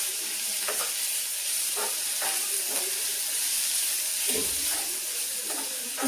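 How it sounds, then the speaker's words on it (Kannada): Spinach palak fried rice sizzles steadily in a hot pan, a constant hiss broken by several soft scraping stirs of a spoon. "ಈ ಥರ ಒಂದ್ಸಲ ಫ್ರೈ ಮಾಡ್ಕೊಂಡ್ಬಿಟ್ರೆ ಸಾಕು,"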